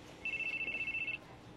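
A telephone rings in a quick electronic trill, one sustained burst of rapid pulses lasting about a second, fairly faint against a quiet room.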